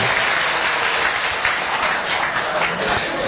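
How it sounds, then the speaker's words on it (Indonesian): A crowd at a company gathering breaks into dense, loud applause that holds steady for several seconds, with little talk over it. "Tepuk tangan dengan."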